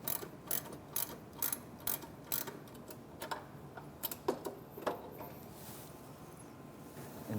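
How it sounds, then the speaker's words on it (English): A ratchet works on the turbo wastegate actuator mounting bolts of a 2006 Mitsubishi Evolution IX, giving faint, close clicking bursts in quick repeated strokes with short pauses between them, no talk. "then we can get in and remove our 2 mounting bolts."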